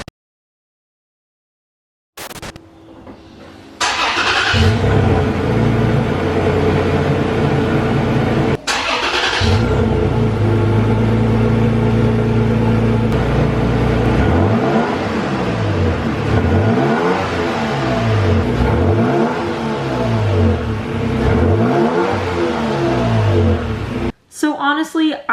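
A Toyota Tacoma pickup fitted with a TRD air intake cranks and starts after a brief silence, settles into a steady idle, then revs repeatedly in rising and falling sweeps before shutting off, loud and close.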